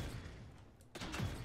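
Ash's burst cannon in the video game Paladins fires a shrapnel round that bursts into a sharp explosion about a second in, over a steady bed of game noise.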